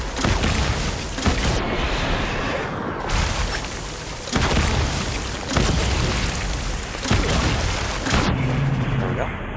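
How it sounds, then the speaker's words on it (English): Grenade launcher firing in Death Stranding, several heavy booming blasts spaced a couple of seconds apart, loud and close, with game noise and a voice talking between shots. "Now I'm going to switch to this grenade launcher."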